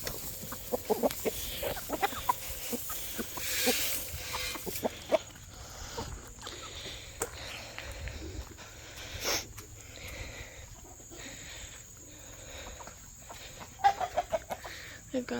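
Chickens cluck softly in a backyard coop after being fed a load of corn and corn husks, with scattered low clucks and rustling at a moderate distance and no talk over them.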